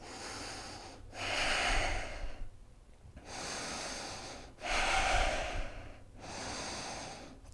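Deep yoga breathing during a twist pose: slow, close, audible breaths drawn in and pushed out through the nose, about four long strokes in steady rhythm with short pauses between, no talking.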